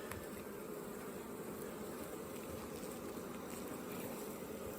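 Honeybees in an open beehive give off a dense, steady buzzing hum, continuous and close, with no voices over it.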